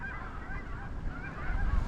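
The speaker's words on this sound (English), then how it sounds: "Big old honkers." Canada geese honk during a late-season hunt in windy open country, a steady chorus of overlapping honks from a flock nearby, with rough wind noise rising toward the end.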